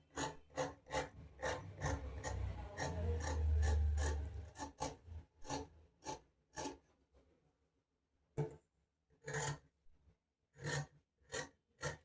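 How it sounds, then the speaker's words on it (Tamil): Scissors cutting through canvas around stitching on a straight-cut kameez, with close, raspy snips and rubbing strokes in irregular bursts, a longer grinding stretch early on, then separated cuts after a short pause. "இந்த கேன்வாஸை ஒட்டின மாதிரி சுற்றி கட் பண்ணணும்."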